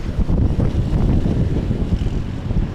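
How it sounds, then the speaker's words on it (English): Steady, loud wind buffeting the microphone on Sea View beach in Karachi in the early morning, a continuous low roar with gusty fluctuations throughout and no voices. "Oh, whoa, it's windy."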